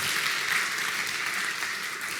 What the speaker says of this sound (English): Please give our speaker a warm applause.